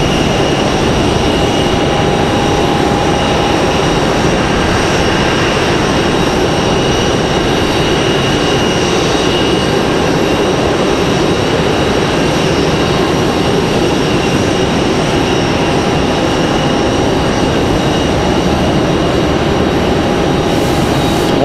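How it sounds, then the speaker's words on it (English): An American Airlines A321 airliner taxiing at Raleigh-Durham airport produces a loud, constant jet engine roar with a high whine on top, close and steady for the whole stretch. "Got another American A321 on the move here, it looks like."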